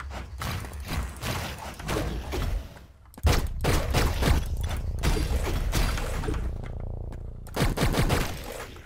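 Shots and impacts crackle in the video game Hyper Light Drifter, a series of sharp bursts and clusters of rapid hits with brief pauses between, fairly loud and up close.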